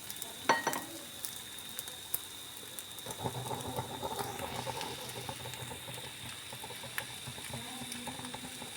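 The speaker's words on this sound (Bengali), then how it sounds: "যেভাবে আমরা অমলেট বানাই সেভাবে করে ডিমটাকে আমি ভেজে নেব।" An egg fried like an omelette in a pan until it puffs up, with a soft, continuous sizzle and light crackle after a sharp knock near the start.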